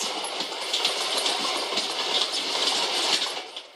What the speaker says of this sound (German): Die Züge fahren oft 20 Stunden ohne anzuhalten.